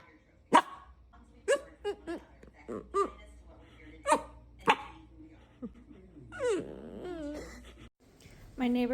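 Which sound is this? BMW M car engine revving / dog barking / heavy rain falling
dog barking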